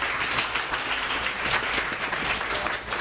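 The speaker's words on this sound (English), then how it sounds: "give them a round of applause" Audience applause fills a health-talk event after a panel Q&A, a dense steady wash of many hands clapping at moderate loudness for about three seconds with no voices over it.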